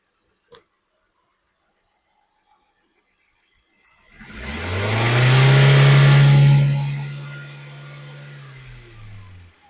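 A 2012 Hyundai i10 Magna petrol engine revs up from quiet idle, rising to a loud smooth roar for a few seconds before easing back down, heard close with no talking.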